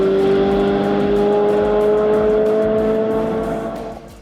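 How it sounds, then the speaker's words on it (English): A Chevrolet Corvette C8 with a flat-plane crank V8 holds a loud, steady high-pitched engine note close by, tapering slightly at the end, with no voices. "you have to really appreciate the way the C8 sounds"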